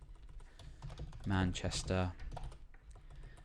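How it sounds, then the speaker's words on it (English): Steady computer keyboard typing runs through the whole stretch, close and clicky, while someone speaks briefly over it in the middle. "So I'm typing 3 examples in"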